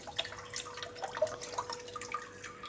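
Tap water running into a washing machine drum as it fills: a steady, quiet trickle with scattered splashes and drips, close by.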